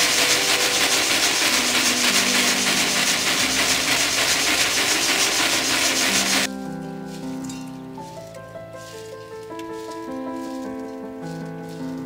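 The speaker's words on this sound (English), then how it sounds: "Our seeds, fairly clean seeds, but still needs a little bit of winnowing" Flax seed is shaken across winnowing screens, giving a dense rustling hiss of seeds and chaff that stops abruptly partway, leaving quieter faint tones and handling sounds.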